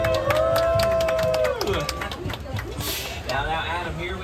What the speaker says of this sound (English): Y'all give a big round of applause for our driver, Adam!